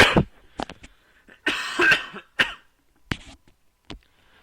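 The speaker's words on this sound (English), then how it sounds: "I had a bit of a cough." Several separate coughs from a man who is a bit sick, close and fairly loud, scattered across a few seconds with brief silences between them and no speech.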